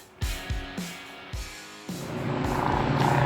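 A 2000 Harley-Davidson Sportster 1200 Custom, revived after ten years off the road, fires up close by with several sharp blips and then settles into a steady, rumbling idle.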